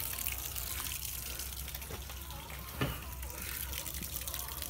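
Water runs steadily from a hose into a 40hp Mercury two-stroke outboard for flushing, a continuous broadband gush with a brief splash near the end.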